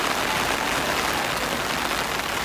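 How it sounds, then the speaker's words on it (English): Heavy rain pours down steadily near a bridge in Hong Kong, a dense, loud, unbroken hiss of drops striking surfaces. "Even though it is raining like crazy, we are still going to bear"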